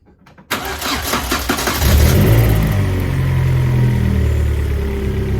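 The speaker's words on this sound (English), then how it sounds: "I need to start the engine." A car's C20XE engine starts: a short crank is followed by a rising catch and rev, then it settles into a loud, steady idle heard close up with no voices.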